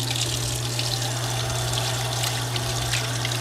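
Lukewarm water runs steadily from a tap into a sink, a continuous, even rush with a low, constant hum underneath and no pauses.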